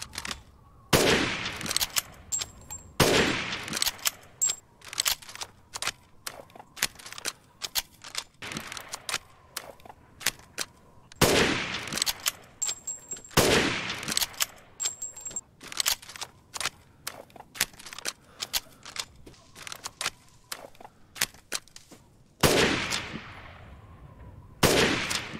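F2 rifle in Resident Evil Village, fully upgraded: loud, sharp gunshots in clusters with long ringing tails, separated by quieter mechanical clicks and handling sounds, repeated across several volleys.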